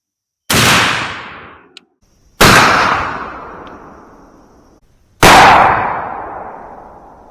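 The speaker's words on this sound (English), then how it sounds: "here's shot number 4 of our 5-shot group with the Federal Flight Control" Three loud, sharp shotgun blasts from a 12 gauge firing Federal Flite Control 00 buckshot, each with a long decaying echo trailing off across an open range, spaced about two to three seconds apart.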